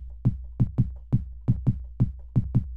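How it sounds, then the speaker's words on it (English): A synthesized kick drum from a physical modelling synth thumps about ten times in a steady, slightly swung pattern. Each hit is a punchy low boom with a short click on the attack, heard alone. "The kick in it sounds like this."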